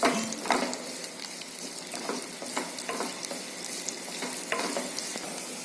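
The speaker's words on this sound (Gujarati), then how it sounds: "ડુંગળી ગુલાબી થાય ત્યાં સુધી તેને આપણે શેકી લઈશું" Onions frying in a pan: a continuous close sizzle with scattered crackles and light stirring scrapes, steady throughout, with no speech.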